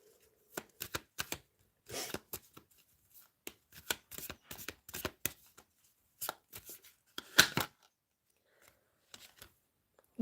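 Tarot cards being shuffled in close, crisp bursts of riffling and slapping, irregular runs of papery flicks with short pauses between, fairly quiet and with no talking.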